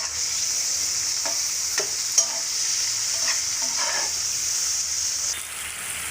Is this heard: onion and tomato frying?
yes